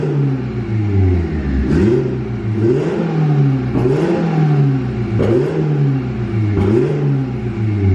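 A turbocharged non-VTEC Honda Civic EG hatchback engine revs repeatedly, rising and falling in pitch in a steady rhythm, loud and close with no talking.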